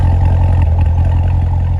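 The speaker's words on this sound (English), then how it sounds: "Nice rumble to the exhaust." A torch red 2018 Chevrolet Corvette Grand Sport 2LT with the Z07 package sits with its engine running, giving a steady, loud, deep exhaust rumble that stays even throughout, with no voices.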